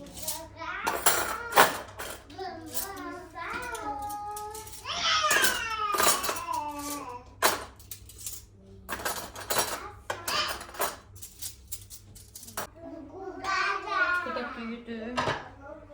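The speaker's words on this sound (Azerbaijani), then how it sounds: "Qaşıqları yumuşam." Spoons and dishes being washed by hand in a home kitchen, with scattered clinks and clatters of metal and crockery beneath ongoing talk and a voice.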